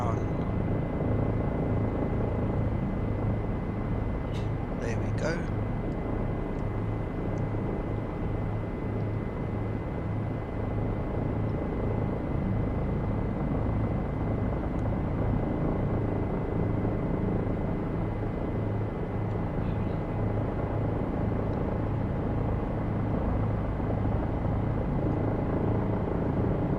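A Bell 407 helicopter flies over the Grand Canyon with a steady, loud engine and rotor drone that stays constant throughout, broken only by a few brief faint clicks.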